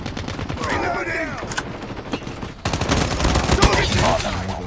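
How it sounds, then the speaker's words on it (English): Gunfire in the mobile shooter Call of Duty: Mobile, with sharp shots fired in rapid bursts and a louder, denser stretch of shooting in the second half, heard alongside a voice and game sounds. "My gun is shooting."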